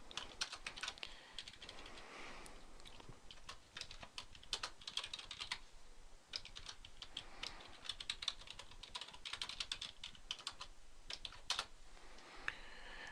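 Java code for a database connection is typed on a computer keyboard, a steady, fairly quiet stream of quick, uneven keystrokes with no talking.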